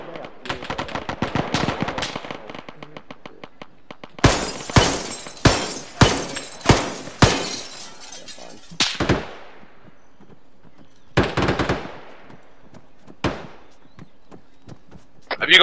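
Airsoft skirmish gunfire: rapid bursts of full-auto fire, then a string of louder sharp single cracks at a steady pace, and later a few scattered shots with echoing tails, near and loud.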